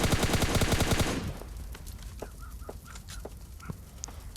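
A rapid burst of automatic gunfire rattles out loudly in the mobile shooter PUBG Mobile Lite, then after about a second it gives way to quieter scattered in-game sounds and distant single shots.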